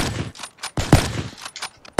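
Gunfire in the Xbox 360 shooter Black Ops III, a rapid series of sharp shots and short bursts over about two seconds, loud and close, with no talking.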